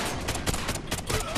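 A dense, continuous burst of gunfire from the shooter game Call of Duty: Ghosts, with rapid shots piling into a loud, crackling wall of noise that never lets up.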